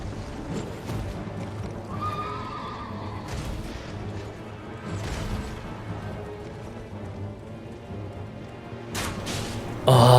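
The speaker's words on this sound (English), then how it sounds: "Oh, you can just respawn the horse." A horse in the Elden Ring video game gives loud whinnies over the din of combat, with muffled hoof and impact sounds, heavy thuds and a crash close by toward the end.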